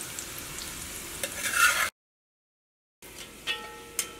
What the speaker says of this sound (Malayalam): അപ്പോൾ നമ്മുടെ സവാള വറുത്തെടുത്തിട്ടുണ്ട്